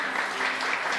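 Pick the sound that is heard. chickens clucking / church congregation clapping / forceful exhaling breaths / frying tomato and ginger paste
church congregation clapping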